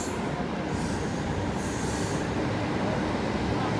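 A train passes through Newark Northgate railway station, a loud continuous rumble of wheels on rail with a high metallic squeal rising at times, close by and steady throughout.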